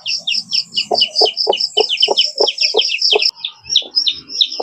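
Newly hatched Indian Aseel chicks peep in a rapid, continuous chorus of high chirps close by, with a hen clucking low in steady rhythm underneath.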